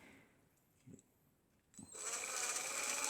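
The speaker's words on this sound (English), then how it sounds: "just drilling these with the 256 drill bit" A small motorized drill bores freehand into a Porsche 934.5 model car kit part with a 256 bit, starting with a few faint taps before a steady high-pitched whir kicks in and holds.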